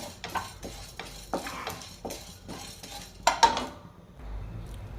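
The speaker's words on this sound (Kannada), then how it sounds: "ಸ್ಟವ್ ಮೇಲೆ ಬಾಣಲಿ ಇಟ್ಟಿದ್ದೀನಿ ನೋಡಿ ಒಂದು ಸ್ಪೂನು ಕಡಲೆಬೇಳೆ ಹಾಕೋತಾ ಇದ್ದೀನಿ" A spoonful of chana dal goes into a pan on a stovetop, giving a quick run of clinks and scrapes of a metal spoon against the pan, a few sharper taps near the end, then quiet.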